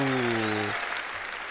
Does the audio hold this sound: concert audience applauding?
yes